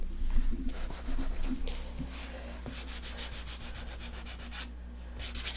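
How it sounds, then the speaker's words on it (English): A Gator power sander works over a painted surface, wearing through the top color, giving a steady close rubbing and scratching with brief pauses and short bursts throughout. "This is what I love, is when you're sanding and you wear through the top color to show you a little bit of blue."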